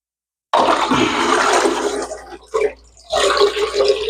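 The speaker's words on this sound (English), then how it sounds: "So we're going to rinse these off" Filter floss pads for a new fish tank are rinsed under running water, a loud close gush of splashing water that briefly drops out and then resumes.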